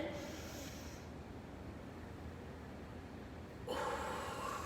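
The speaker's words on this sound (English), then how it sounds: "let's take some big, deep breaths. So we're gonna breathe in" Deep breath drawn in during a slow stretching exercise, a steady soft airy inhale lasting several seconds, then a brief louder rush of breath near the end, close and alone with no talk.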